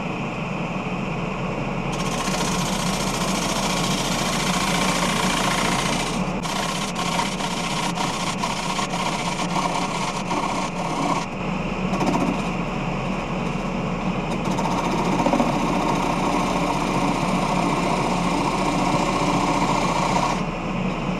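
A freshly sharpened bowl gouge cutting a wooden bowl on a spinning lathe gives a continuous loud whirring, rasping hum. It drops out briefly midway with a series of rapid ticks, then resumes steadily, with no voices.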